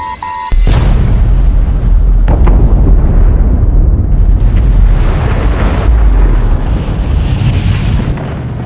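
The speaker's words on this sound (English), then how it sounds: "A nuclear missile has impacted the city." A nuclear missile strikes a city: a huge deep boom erupts after a brief tone, then a sustained, loud rumbling roar with debris and crackling that slowly thins out over several seconds.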